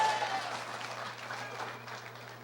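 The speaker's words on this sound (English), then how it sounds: "Give yourselves a round of applause." Audience applause at a political party's 82nd annual conference, a steady wash of many hands clapping in a large hall, fairly even throughout with a constant low hum underneath.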